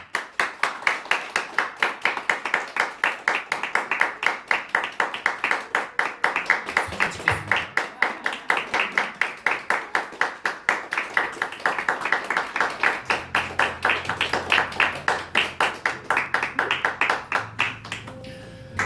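Sustained applause from a congregation at a Presbyterian church ordination ceremony, steady rhythmic clapping filling the room for nearly twenty seconds, with a few low voices murmuring underneath toward the end.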